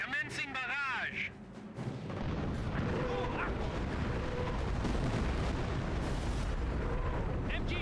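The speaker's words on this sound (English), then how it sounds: "Rocket batteries have the target. Initiating fire sequence." A rocket artillery barrage pounds away in a video game, a dense, continuous roar of blasts and rumble that builds and stays loud, with talking voices over the top at the start and intermittently.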